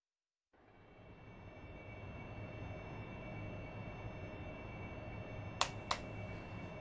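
AV-8B Harrier jet engine in a DCS simulator cockpit, a steady broadband roar with a faint whine that swells in after a brief silence and holds, joined late by two sharp clicks.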